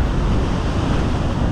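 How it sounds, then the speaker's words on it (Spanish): Ocean surf breaking against rocks on the coast at Los Caracas, La Guaira, Venezuela, a loud, continuous wash of crashing water with wind noise buffeting the microphone and no voices. "Mira cómo rompen las olas."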